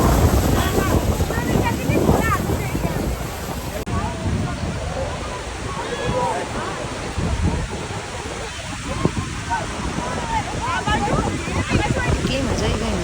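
A tour boat sits near Niagara Falls, where heavy wind buffets the microphone over the constant roar of falling water and churning waves, with voices talking throughout.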